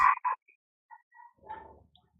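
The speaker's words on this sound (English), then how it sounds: "do you guys hear that barking?" A dog barks a few times in the distance during an online stream, short faint sharp barks separated by silence.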